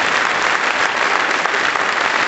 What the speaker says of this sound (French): j'aimerais qu'on applaudisse une dernière fois tous les démonstrateurs qui ont participé à cette soirée